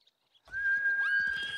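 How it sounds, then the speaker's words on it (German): A horse whinnies once in the video game Ghost of Tsushima after a short silence, a loud, bright call with a wavering, sliding pitch. "Du bist ein braves Pferd, Nobu."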